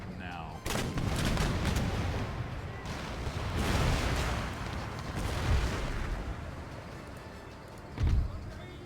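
Artillery and musket fire rumble through an Empire Total War battle (Darthmod mod): a steady, dense roar of distant gunfire with one sharper, louder cannon boom near the end.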